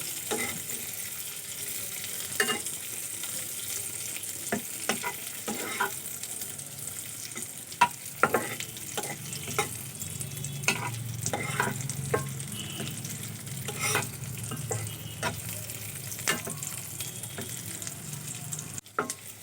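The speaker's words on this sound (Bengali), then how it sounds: "এখন আমি কিশমিশগুলোও ভেজে নেব।" Raisins fry in hot ghee in a pan, giving a constant low sizzle. Scattered sharp clicks and scrapes from stirring run through it, fairly close and without talking.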